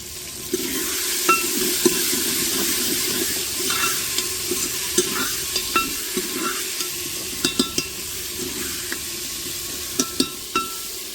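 Potatoes sizzle steadily in a pan on a cookstove while a spoon stirs them, scraping and clicking against the metal at irregular intervals, close and clear.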